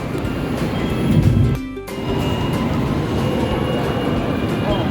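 Steady rumbling roar of an MRT metro train in motion, with a brief drop and change in tone partway through; constant and loud, no voices.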